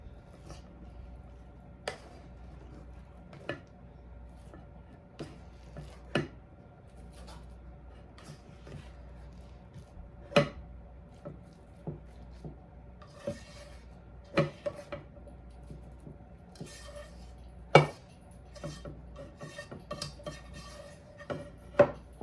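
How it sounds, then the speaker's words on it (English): Potatoes dropped one by one onto corn in a kitchen pot, sparse thuds and clunks at irregular intervals with a faint hum behind. "now I'm gonna throw the potatoes on top"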